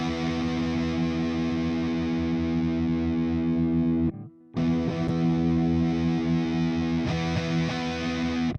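Electric guitar run through a Nembrini Audio 8180 Monster Tube pedal with the EQ turned up, playing a loud, sustained, fuzzy distorted chord with crisp top end, briefly cut off near the middle before ringing out again.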